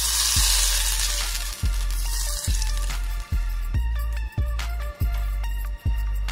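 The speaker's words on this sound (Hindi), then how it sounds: "1 बड़ा चम्मच सरसों ऑयल बहुत अच्छे से हम गरम कर लेंगे" Hot mustard oil poured into a soya tikka marinade gives a bright hissing sizzle that fades over a few seconds, while steady tonal notes repeat in the background.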